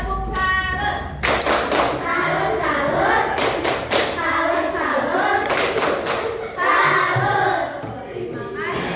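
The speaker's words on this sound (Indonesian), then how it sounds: "Oke, tepuk salut." A school class performs a patterned salute clap together, rhythmic bursts of hand claps and thumps with children's voices chanting along, close and lively in a classroom.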